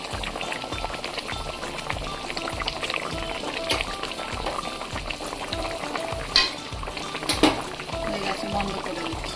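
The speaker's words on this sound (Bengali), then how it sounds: "একবার নেড়ে দেবো আস্তে করে" Koi fish curry simmers and bubbles in a pan while it is gently stirred, giving a steady soft sizzle with faint scraping and a couple of brief louder clinks.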